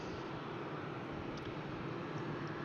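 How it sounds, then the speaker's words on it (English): A Ryanair airliner taxis along taxiway Whiskey at Brussels Airport, giving off a steady, even jet engine rumble and hiss at moderate distance. "we saw a Ryanair on taxiway whiskey passing by."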